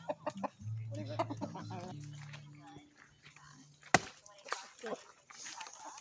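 Chickens cluck and cackle nearby amid farmyard noise, with people talking over them and a sharp knock partway through.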